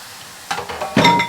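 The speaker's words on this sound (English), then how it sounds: "so I'm putting the kale in." Freshly rinsed, wet kale drops into a hot pan, a short burst of sizzling and rustling that flares twice in quick succession, close and clear.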